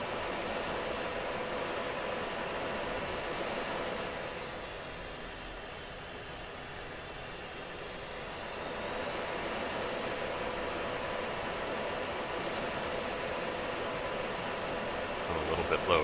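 F-16 jet engine in a flight simulator game, a steady roaring whine that dips briefly and then rises again as the throttle is increased, with someone talking quietly over it.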